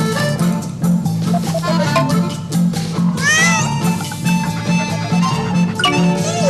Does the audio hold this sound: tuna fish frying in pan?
no